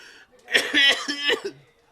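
A performed coughing fit from a sick man with tuberculosis in a Bengali radio drama set in a doctor's visit: a short cluster of close, loud, rough voiced coughs over about one second, standing alone.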